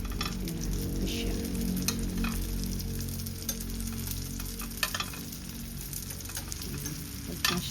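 Tikoy frying in a pan, a dense continuous sizzle and crackle with occasional stirring knocks, close up and steady throughout.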